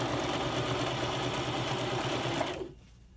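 A sewing machine hums steadily at close range while stitching fabric snippets onto burlap, then winds down and stops near the end.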